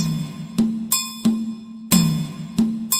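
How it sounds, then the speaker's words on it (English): Two pitched electronic tones loop in an interlocking 3 against 2 polyrhythm, the lower one pulsing three times against two higher beeps per cycle, crisp and repeating. "So a 3 against 2 polyrhythm would sound like this"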